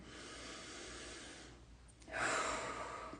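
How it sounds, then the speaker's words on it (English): One deep inward breath, drawn slowly and close to the microphone, rises into a soft airy rush after a brief quiet pause, with no talking. "And deep breath in."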